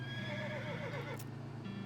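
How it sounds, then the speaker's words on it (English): A dark horse neighs in the West of Loathing video game, a long wavering whinny over steady game music, with a soft clip-clop of hooves near the end. "we're going to ride our dark horse out of town"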